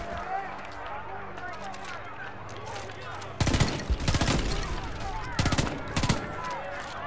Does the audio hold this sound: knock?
no